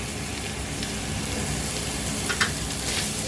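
Chicken spring roll filling frying in a pan with dark soy sauce and vinegar, giving a steady, dense close sizzle with a brief stir clatter near the end, no talk.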